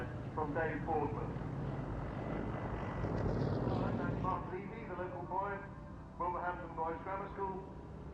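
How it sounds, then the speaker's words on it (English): Single-seat Yak 50 aerobatic aircraft of the Aerostars team flying at an airshow, a steady propeller-engine drone sitting under a commentator's voice throughout, rising slightly midway. "Unlike the Yakovlevs team, the Aerostars have all got single-seat Yak 50s."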